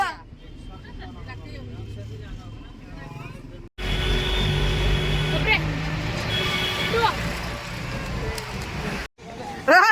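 Auto rickshaw engine droning steadily during a ride toward Prem Mandir, with a brief cut midway, road and engine noise continuing under passengers talking.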